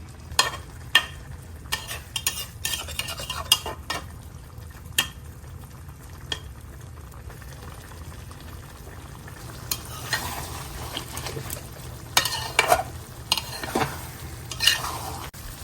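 Mola fish curry with tomatoes cooks over low heat in a pan, giving a soft steady sizzle broken by scraping stir strokes and occasional clinks of a utensil against the pan, growing busier toward the end; no one speaks.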